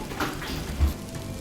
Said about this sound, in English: What's that noise? It's raining.